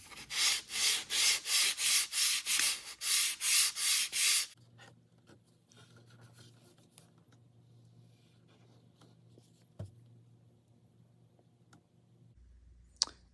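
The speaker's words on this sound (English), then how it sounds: "I'm just using the pattern as a sanding block." A wooden rowing oar blade is sanded with a wooden pattern used as the sanding block, giving about a dozen loud rhythmic rasping strokes up close before the sound stops and a quiet hum with a few clicks remains.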